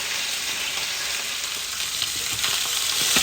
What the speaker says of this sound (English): They need space to actually sear themselves off, because what you want is colour that's going to add to the flavour.